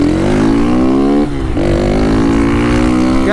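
Honda Titan motorcycle engine revving hard close up, climbing in pitch, a brief dip at a gear change, then pulling strongly again as it accelerates through the gears.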